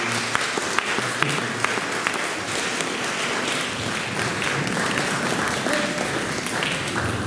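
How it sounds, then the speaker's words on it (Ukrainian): An audience applauds a performer at a live event in Drohobych, steady sustained clapping from a large crowd heard alone, without speech. "So, I think we can applaud him"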